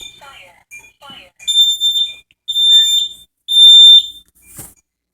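A home smoke alarm sounds in loud, piercing high beeps, first short then in longer sustained bursts, with voices speaking briefly before it starts.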